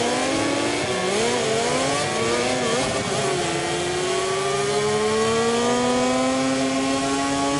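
MotoGP racing motorcycles from the MotoGP 24 video game, engines revving continuously with rising and falling pitch sweeps, several bikes layered together, loud and steady with no talking.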